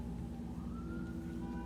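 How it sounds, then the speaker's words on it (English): A police car siren wails outside, somewhat distant and steady, its tone rising slowly over a low rumbling background. "Do you hear these sirens out here?"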